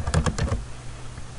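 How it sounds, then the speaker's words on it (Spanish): Computer keyboard keys clatter in a quick burst of several taps during a statistics software tutorial, then fall quiet with faint background hum. "polígono de frecuencia para pulso de hombres."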